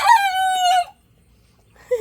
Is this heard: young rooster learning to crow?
yes